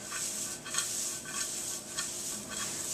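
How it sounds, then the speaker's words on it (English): Green beans and Brussels sprouts are tossed in butter in a pan on the stove, giving a steady sizzle with soft, rhythmic stirring scrapes about every half second, close and without talk. "we're just going to want to keep these guys moving around in the pan, flip them"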